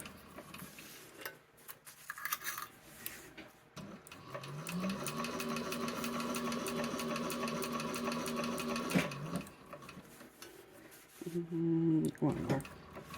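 A home sewing machine stitches steadily for about five seconds with a rapid mechanical rhythm, stops, then runs again in a short burst near the end, with light handling noise and quiet talk between.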